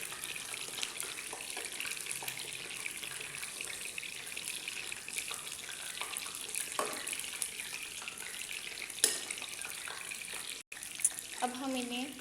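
Pakoras deep-fry in oil while being turned to cook the other side, giving a steady broad hiss with a few scattered clicks and one brief knock near the end.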